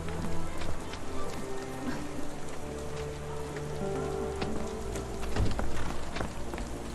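Steady rain patters on surfaces in the video game Sherlock Holmes The Awakening, a constant close wash with scattered louder drips and faint tonal ambience underneath.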